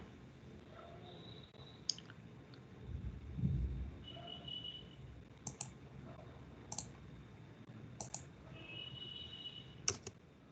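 Computer mouse clicks at a desk while working in AutoCAD, a handful of sharp isolated clicks spaced a second or two apart over a quiet room hum, with one soft low thump early on.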